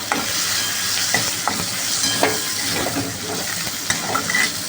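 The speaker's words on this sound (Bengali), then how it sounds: "ক্যাপসিকাম, পেঁয়াজ আর 2টো কাঁচা লঙ্কা চিড়ে রেখে দিয়েছি। এটাকে ভালো করে ভেজে নেব।" Capsicum, onion and green chillies fry in a small amount of oil, giving a loud, steady sizzle with occasional stirring scrapes, close up and with no talking.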